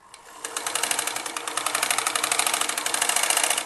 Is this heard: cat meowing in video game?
no